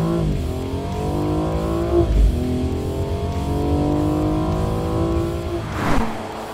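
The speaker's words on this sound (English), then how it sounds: "And the sound from inside." Inside a BMW M235i xDrive at full throttle, the engine note climbs loud and steady through several rising sweeps, with short dips at the gear changes.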